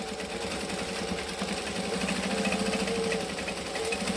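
Back stitching on a bag, a sewing machine hums with a fast, even mechanical chatter, running continuously and close for several seconds.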